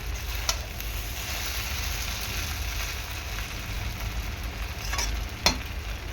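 Egg chow mein sizzles in a hot pan while it is stirred, giving a steady crackling fry with a few sharp clicks of a utensil striking the pan.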